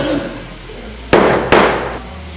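Two sharp, loud hammer strikes land close together on a multi-prong leather hole punch, each a crisp crack with a short ringing tail.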